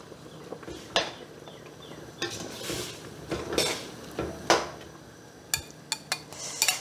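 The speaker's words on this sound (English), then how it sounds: "Let's add the toasted rice." Toasted rice being tipped into a pot of squirrel stew and mixed by gloved hands, heard as a series of sharp clinks and scrapes of cookware at close range over soft broth stirring, with no talking.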